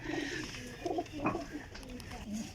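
Pigeons coo in soft repeated bursts amid a busy loft, with someone talking over them throughout.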